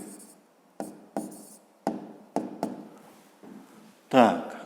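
Pen strokes on paper while a math answer is written out, several short scratchy bursts separated by pauses, ending in a longer, louder scrawl, close and fairly quiet.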